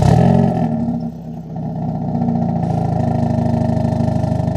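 Hyundai Avante N 2.0 (CN7) with DCT and stock exhaust starting up, a loud engine burst settling into a steady, rumbling idle with a deep exhaust drone, heard alone and close.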